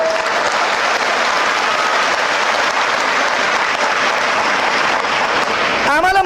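An audience at a fiery Marathi public speech breaks into loud, sustained applause, dense clapping that fills the room steadily from start to finish.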